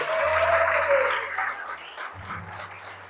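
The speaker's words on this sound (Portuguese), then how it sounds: "Aplauda o nome do Senhor." Church congregation clapping in praise during a Brazilian service, a loud burst of many hands that fades midway, with low musical tones and a voice underneath.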